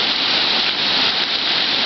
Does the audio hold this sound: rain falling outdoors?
yes